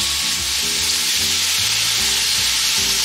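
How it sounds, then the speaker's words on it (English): Andouille sausage browning in a pan over medium heat, giving a loud, continuous close sizzle with faint stirring scrapes and no talking. "First thing we wanna do is brown the sausage"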